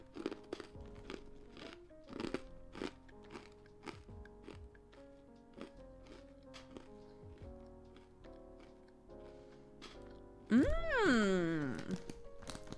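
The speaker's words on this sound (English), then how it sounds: "I'm about to crunch." Someone eating strong-smelling snacks, with sharp close crunches in a quick irregular series, then a louder voiced murmur near the end, in a quiet room.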